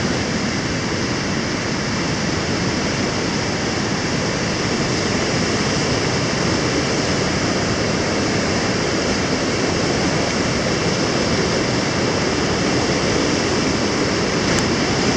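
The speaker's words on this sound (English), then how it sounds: "Little standing waves." Steady, loud rush of flowing water, a continuous broadband roar of a river churning over rocks into small standing waves, on Minnesota's North Shore, with no pauses or voices.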